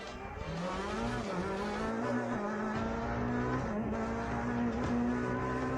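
A race car screams around a track with a steady, loud engine drone that rises and shifts in pitch, and tyre hiss runs underneath throughout.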